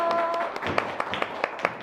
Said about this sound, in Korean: 회장님 박수로 한번 모시겠습니다